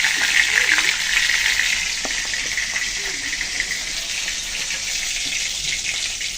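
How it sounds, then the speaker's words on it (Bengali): Pieces of tilapia fish fry in hot oil in a pan, producing a loud, dense, continuous sizzle that eases slightly partway through, with a few faint utensil taps. "মাছটা ভালো করে ভেজে নিলাম"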